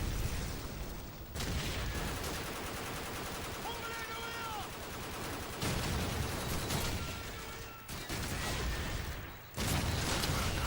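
Machine gun fire in a Call of Duty 4 or Modern Warfare 2 match, long sustained rapid-fire bursts broken by brief pauses, with a whistling tone partway through and faint voices underneath.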